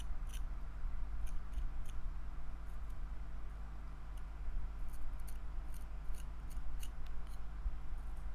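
A knife cuts deep into a honeydew melon during fruit carving. A hum runs underneath throughout, with faint, repeated crisp clicks and snips scattered across it. No one speaks.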